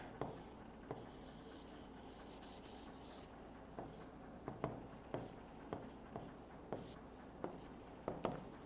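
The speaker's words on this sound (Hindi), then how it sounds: "साफ मैं लिख दे रहा हूं यहां पे" Handwriting on paper during an Arabic lesson: a pen scratches and rubs in short strokes and taps, close and quiet, in an irregular rhythm with brief pauses between words.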